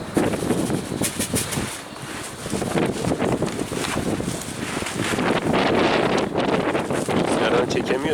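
Strong wind buffets a microphone outdoors, a loud continuous roar with gusty surges, and faint voices occasionally audible beneath it.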